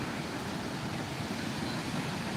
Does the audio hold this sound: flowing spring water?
yes